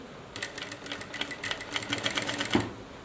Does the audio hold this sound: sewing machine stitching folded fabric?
yes